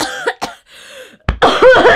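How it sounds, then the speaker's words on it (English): Several harsh coughs burst out one after another, close and loud, then a longer, rougher run of coughing that breaks down into a throaty hacking fit. "I ended up dissolving into a fit of coughs instead of doing an evil laugh"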